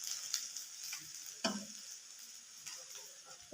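Potatoes frying in a pan: a steady close sizzle with crackle and a few sharp utensil clicks, no talking.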